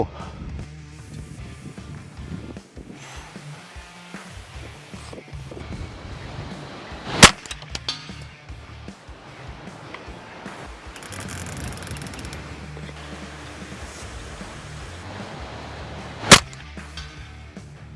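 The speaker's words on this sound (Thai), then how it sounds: "ระยะ 100 เมตรนะครับกำลังซูมเริ่มต้นที่ 3 เท่า ขยับ 4 5 6 7 8 9 สูงที่สุดเลยเนาะ มายิงดู" A rifle fired at a 100 metre target on an outdoor range: two sharp, loud single shots several seconds apart, each standing out against a steady background of wind and mechanical noise.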